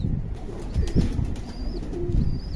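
Highflyer pigeons coo in low, throaty rolling calls close by, several overlapping, with faint chirps and a soft background hum.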